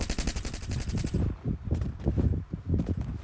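Rapid bursts of automatic gunfire from the video game Free Fire, a dense rattling volley that stops abruptly, followed by scattered single shots and thuds at close range.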